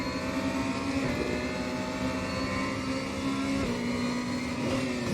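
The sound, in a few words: tyres squealing on BMW M4 DTM car in RaceRoom video game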